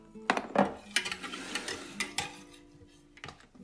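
A spoon or whisk stirs strawberry waffle batter of flour and salt in a bowl, making irregular close clinks and knocks against the sides that thin out and grow quieter toward the end.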